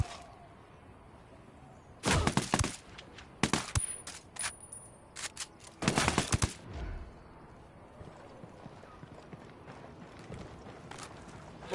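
Sniper gunfire in the video game Ghost Recon Wildlands, a handful of sharp, loud cracks in two clusters, separated by quieter gaps against a faint game background.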